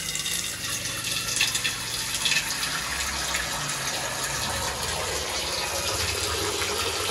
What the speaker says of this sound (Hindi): इसमें धोऊंगी ना, बहुत सारा पानी डाल के ना हाँ जी। इसको अच्छे तरीके से धोना है बिल्कुल साफ